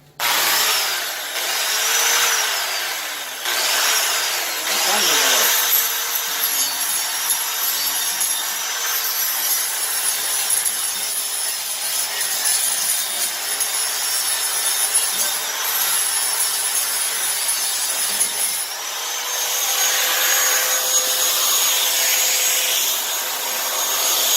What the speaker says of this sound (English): let's see what happens when I take the grinder to it with my almost dead flat disc